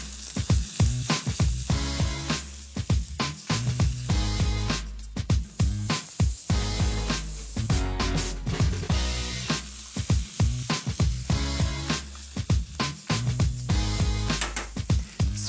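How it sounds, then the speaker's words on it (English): Kangaroo fillets sizzle loudly in a hot pan, a continuous close frying hiss broken by frequent sharp pops and crackles, with no voices. "So in goes our fillets. So I'm just going to cook that for 2 or 3 minutes on each side."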